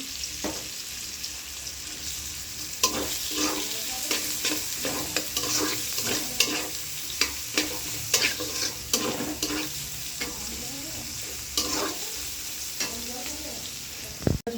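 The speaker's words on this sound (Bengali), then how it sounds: "এখানে এই যে বেরেস্তা করে রাখছি" Onions frying in oil for beresta, with a steady close sizzle and repeated scraping of a spatula stirring the pan in an irregular rhythm throughout.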